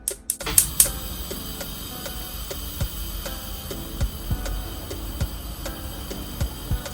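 A gas stove igniter clicks to light the burner while Togolese toffee is being made: a few sharp, loud clicks right at the start, then a steady series of fainter, evenly spaced ticks.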